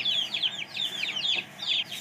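Hen clucking among her chicks in a backyard, with high chirps and clucks repeating continuously at close range, fairly loud and steady throughout.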